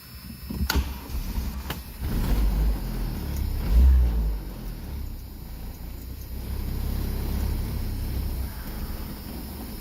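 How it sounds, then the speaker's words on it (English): A 1981 Dodge Omni De Tomaso engine cranks and fires with a couple of sharp clicks, rises briefly in revs, then settles into a steady low idle rumble, heard close up. "Starts up and idles."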